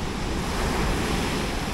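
Sea waves roll onto a beach in Bengkulu, Sumatra, where the water is murky after days of heavy rain, making a loud, continuous surf roar with wind buffeting the microphone.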